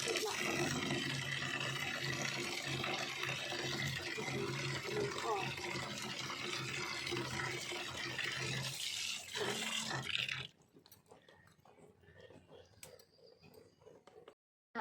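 Tap water rushes steadily as leaves are rinsed clean of soil by hand, a loud, broad splashing that runs for about ten seconds before dropping to quieter drips and handling sounds.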